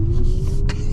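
Lexus RZ450e electric car accelerating hard, a steady low drivetrain rumble with a rising whine heard from inside the cabin, loud and continuous, with a brief hiss of wind or tire noise near the end.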